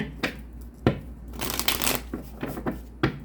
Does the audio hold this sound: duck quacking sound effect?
no